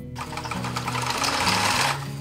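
A home sewing machine stitches fabric for washable leaf placemats along a 5/8-inch seam, running as a steady, fast, close hum with no pauses.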